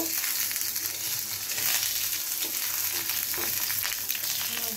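Eggs fry in a pan with a light sprinkle of salt, giving a close, steady crackling sizzle with small irregular pops and faint scraping, no voices.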